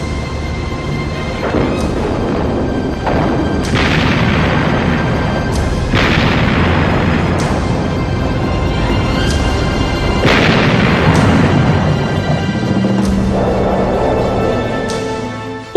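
Heavy naval guns of the German cruiser Graf Spee fire salvo after salvo at the cruisers Ajax and Achilles during the 1939 River Plate battle, loud booming blasts roughly every two seconds over a continuous roaring rumble.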